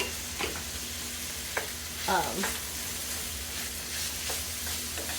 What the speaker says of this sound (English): We're going to saute this up really well. This is the onions, celery, carrots.